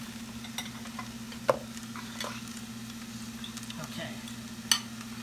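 Five scrambled eggs frying in a large pot for chicken fried rice, a quiet, low sizzle with a few stirring clicks and scrapes; one brief word is spoken.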